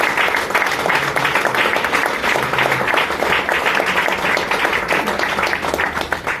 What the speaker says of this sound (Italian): Facciamo un applauso per applauso.